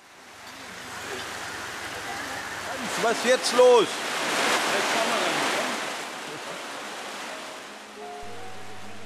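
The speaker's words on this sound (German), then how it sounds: "Ob der Regen heute noch aufhört?" Heavy rain pours during a thunderstorm in Laos, a steady broad hiss that swells and fades slightly, while someone briefly speaks partway through.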